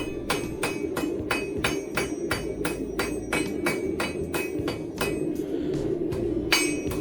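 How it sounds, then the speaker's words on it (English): A hammer strikes hot metal on an anvil while forging a small coal shovel scoop, ringing blows in a steady, even rhythm of about two per second, loud and close over a low background hum. "I'm hitting the bit of metal"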